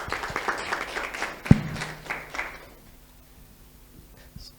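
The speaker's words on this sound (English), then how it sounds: "Some claps." An audience claps after an online presentation on wages for data workers: a brief run of scattered claps with one sharp close hit, then fading quickly into quiet room tone.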